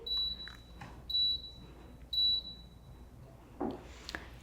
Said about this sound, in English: This walking pad does beep and you can't turn it off.